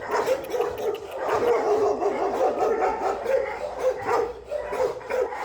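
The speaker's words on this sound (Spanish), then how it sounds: "También hay perros de raza pura, como este pastor alemán" A German shepherd barks and whines repeatedly nearby at an animal shelter, the yelps and whimpers coming in uneven bursts without any talking.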